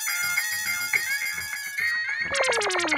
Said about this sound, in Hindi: अरे वो डिलीवरी बॉय का फोन है।